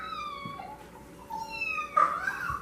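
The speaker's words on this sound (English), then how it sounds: "Does that sound like a cat?" A cat meows several times in drawn-out, wavering cries, close by, rising and falling in pitch.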